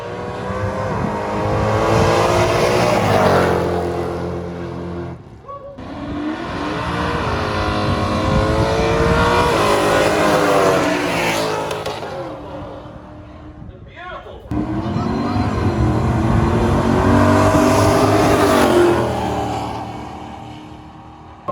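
Modified drag cars launch off the line at an eighth-mile off-street drag strip, engines roaring loud and close in long sustained bursts, broken by brief gaps, with an announcer talking over them.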